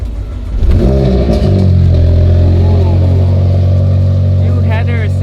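Mazda RX-7 endurance race car with a rotary engine and new headers, revving loudly and close by in a garage, with a deep steady drone and rising, falling throttle blips.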